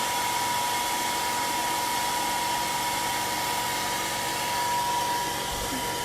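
A hair dryer blows continuously at steady volume, a loud airy roar with a faint whine, running without pause.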